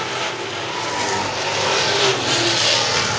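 Late model race cars circle a short track in a feature race, a steady broadband engine roar filling the whole stretch at fairly constant loudness without clear single passes.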